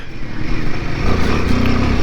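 A Royal Enfield Himalayan 450 motorcycle rumbles steadily while ridden off-road on muddy ground, its engine note close and continuous with a low throbbing drone.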